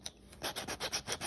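A hand file rasps back and forth in short, steady strokes, smoothing the sides of a drilled hole in a metal awning window arm for a Prevost, a faint, close scraping rhythm with no talk.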